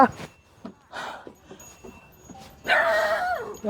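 Dogs bark and yip in short, scattered bursts, with a louder, longer bout of barking near the end.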